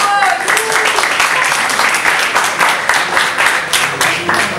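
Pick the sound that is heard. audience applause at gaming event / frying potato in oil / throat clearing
audience applause at gaming event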